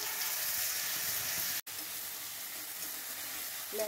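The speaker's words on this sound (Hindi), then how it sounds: "मैं लहसुन का इसमें अब पेस्ट डालूंगी।" Garlic paste sizzling in hot oil for palak paneer, with bay leaf and a dried red chilli already in the pan: steady, close, loud frying hiss, broken once by a brief silence.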